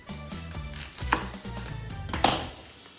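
A knife chops through an onion on a cutting board while cooking turkey burgers, giving a few firm, close cuts that land over a soft background hum.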